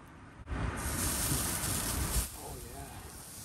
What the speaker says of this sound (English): Look forward to hearing this sizzle.